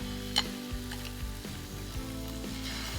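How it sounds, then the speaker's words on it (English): Steak sizzles loudly in hot oil, a constant crackling hiss with small pops and spits, close up and with no talking. "Listen to that sizzle."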